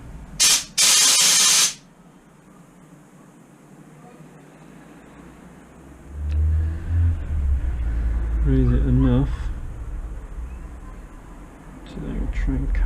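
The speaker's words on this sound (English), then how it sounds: "Try some compressed air on it." Compressed air blasts into a blocked SYM XS 125cc motorbike carburettor in two short, loud hissing bursts up close, followed by quieter shop noise and someone talking.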